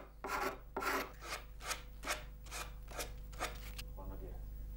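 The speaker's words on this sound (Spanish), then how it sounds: "Solo resta rebajarlo al ras del costado con la cuchilla de ebanista y la lija." Repeated rasping strokes of a cabinet scraper and sandpaper across wood on a handmade string instrument, about eight even passes in a steady rhythm, close up, with a low hum underneath.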